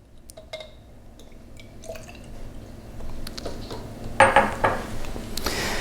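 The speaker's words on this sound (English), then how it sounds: "And then we'll pour in enough tap water to cover those nails about halfway." Tap water poured into a small vial holding iron nails, heard as a faint trickle and splash that builds toward the end, with scattered drips and light clinks beforehand, close by and with no one talking.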